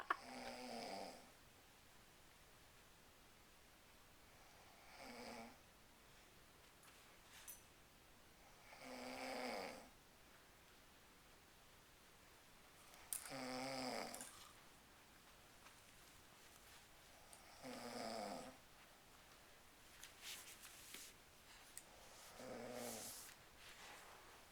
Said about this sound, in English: The next morning, and the snoring continues.